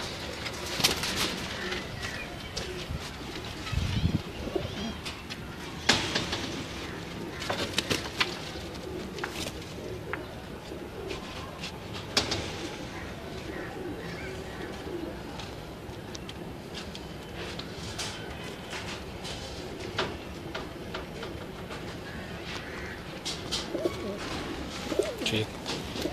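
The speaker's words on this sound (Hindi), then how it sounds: "ये जी तमाम नीले कबूतर हैं इस टाइम।" Blue kamgar pigeons cooing in a loft, repeated soft low coos over a constant bed of bird chatter and occasional wing flutters, close by, with no talk.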